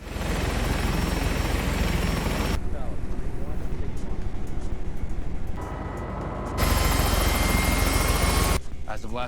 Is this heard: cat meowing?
no